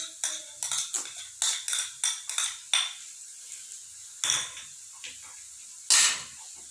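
Onion, ginger and garlic stirred in a pan with a metal spoon, a quick cluster of sharp clinks and scrapes at first, then a few sparse knocks over a faint sizzle.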